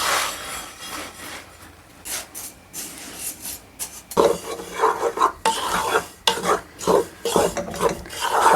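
Flour toasting in a pressure cooker pot, stirred with a scraping, rubbing rhythm of repeated strokes, close and fairly loud, growing busier in the second half.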